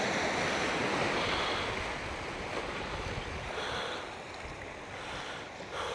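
Surf washing steadily onto a secluded, empty beach near Oura in Albufeira, Portugal, a broad continuous roar of breaking waves with some wind rushing across the microphone, no voices.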